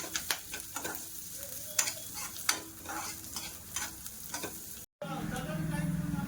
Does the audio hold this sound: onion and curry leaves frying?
yes